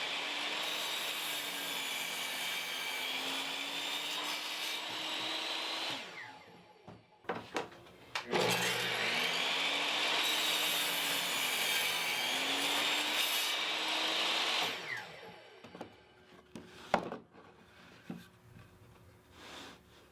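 A power saw cuts a wooden board for a drill press storage cabinet: two long, loud whining cuts with the motor droning steadily, separated by clunks and a brief pause as the board is handled.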